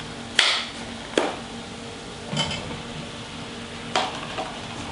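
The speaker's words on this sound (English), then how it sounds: "Give that a little stir. And those capers smell wonderful." Capers frying in a pan being stirred, a soft sizzle under a handful of sharp spoon-against-pan clacks spaced about a second apart, close and clear.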